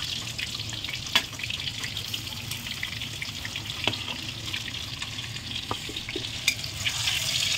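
Chicken pakoda fries in hot oil, giving a continuous close sizzle and bubbling crackle with a few sharper pops and utensil clicks scattered through.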